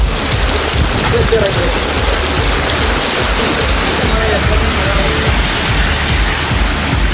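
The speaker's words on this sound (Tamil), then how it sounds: "1/2 மணி நேரமாக மிதமான மழை பெய்தது" Moderate rain falls over Palayamkottai streets in a steady, dense hiss that stays even and continuous from start to finish.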